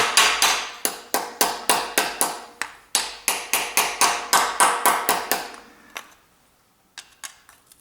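Rapid, evenly spaced metal hammer strikes on a screw in the cylinder head joint of a Ford Duratec engine ring out, about three per second, then stop briefly before a few final taps.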